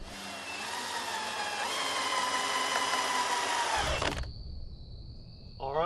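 A power tool drives a bolt into an outdoor kitchen foundation with a sustained, loud whine for about four seconds, then stops abruptly and leaves faint background noise behind.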